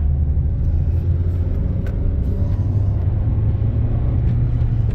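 A repaired car driving along with its engine running, a loud steady rumble from inside the cabin with continuous road noise and no voices.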